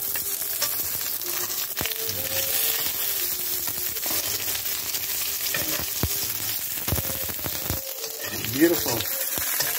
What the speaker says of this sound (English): When that's done, I'll add some more of the baby bok choy to this pan